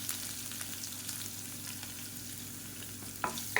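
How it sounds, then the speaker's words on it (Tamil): Chopped garlic, mustard seeds, urad dal and asafoetida fry in hot oil over a medium flame, giving a steady close sizzle with light crackles and a small stirring clatter near the end. "அடுப்பு நல்லா மீடியத்தில் வச்சுக்கிட்டு பூண்டு நல்லா பொன்னிறமாக வதக்கிக்கலாம்."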